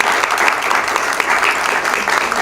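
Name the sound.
audience applause for author and lecturer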